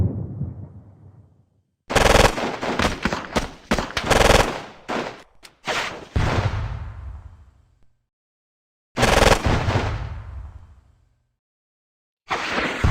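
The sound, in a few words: gunfire in the video game Squad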